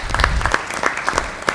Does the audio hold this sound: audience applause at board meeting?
yes